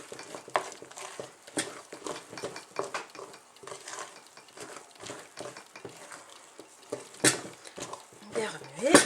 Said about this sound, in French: maintenant on remue, il faut bien incorporer tout ça